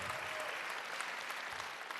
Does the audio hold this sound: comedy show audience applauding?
yes